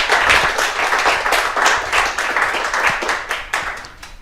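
A small group claps in lively, steady bursts for about four seconds, close and fairly loud, with no voices over it.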